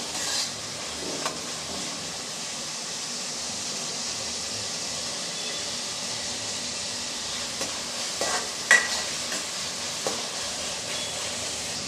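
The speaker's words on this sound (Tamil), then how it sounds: "சேர்த்து நல்லா வதக்கி விட்டுறலாம் ஒரு ரெண்டு நிமிஷம் நல்லா தக்காளி வதங்கட்டும்" Chopped tomatoes sauté in a pan for a spicy tamarind kuzhambu, giving a steady soft sizzle and hiss with occasional scrapes and knocks as they are stirred, louder toward the end.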